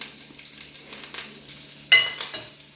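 Curry leaves, cumin and dried red chillies hitting hot oil: a quiet, crackling sizzle with light spattering pops, then a sharper burst of sizzle as more goes into the pan near the end.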